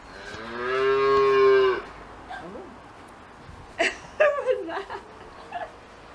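A cow moos once, a long loud low call close by, followed by quieter chuckling and people talking in the background.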